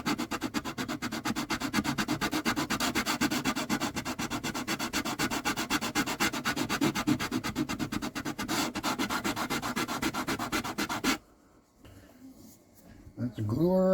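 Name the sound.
sanding wood with a sanding block on a parlor guitar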